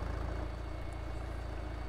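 A junkyard truck engine idles with a low, steady rhythmic rumble and chug, heard fairly close and continuous throughout, with no voices.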